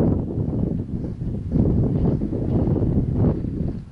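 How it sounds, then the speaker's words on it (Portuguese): Strong wind blows outdoors at a church garden plot, a steady, loud roar with gusty surges buffeting the microphone throughout, no voices heard. "hoje tá muito vento aqui"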